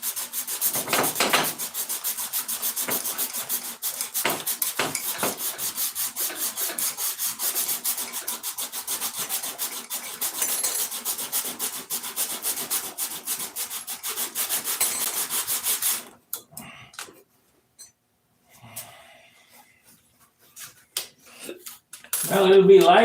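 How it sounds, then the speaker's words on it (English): Rapid, continuous scratchy rubbing from sanding a wooden model airplane for about sixteen seconds, then the sanding stops and quieter sounds and voices follow. "it'll be lighter by the time I get all this sanded off"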